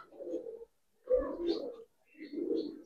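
High-flying Budapest Damascene silver Giribaz pigeons coo close by in three soft, throaty bursts separated by short silent pauses.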